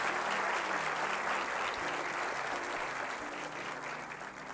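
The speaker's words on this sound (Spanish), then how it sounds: "Vamos a darle un aplauso al Rey de Reyes y Señor de Señores, Jesucristo." A church congregation claps in a dense, sustained round of applause that slowly fades, with no voices over it.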